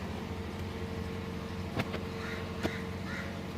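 A car engine idles steadily after finally starting following a no-crank fault, a low even hum close to the microphone with a couple of brief clicks.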